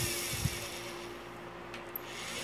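A universal motor turns slowly on low voltage, switching between clockwise and counterclockwise rotation, with a faint, steady low hum and a few soft knocks.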